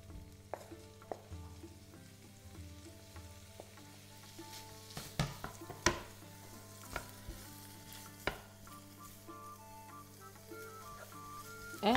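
Diced bacon and cooked smoked bacon fry in a pan, with a continuous close sizzle broken by scattered crackles, pops and scraping stirs that grow busier toward the end.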